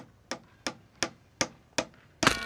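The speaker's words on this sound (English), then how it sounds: "it's a man hitting his thumb with a hammer" A hammer strikes in six sharp, evenly spaced blows, each a crisp close knock with a short ring, the last one louder and rattling, as a man hits his thumb.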